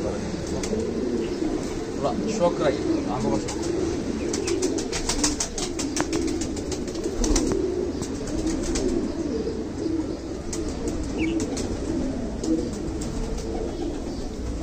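Pigeons coo steadily in a dense, close chorus at a pigeon fancier's loft in Khulna, Bangladesh, with occasional wing flutters, while someone talks over the birds.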